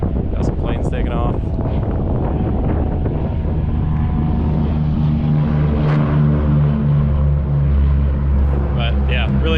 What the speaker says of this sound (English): got some planes taking off